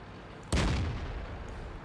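A tank cannon fires a premium shell for the E-75 in World of Tanks, a single sudden loud boom followed by a long rumbling tail that stays heavy to the end.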